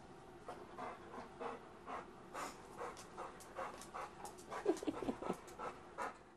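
A dog at an animal shelter pants steadily at close range: a soft, rhythmic run of quick breaths with a few louder, raspier huffs near the end, faint and without talk.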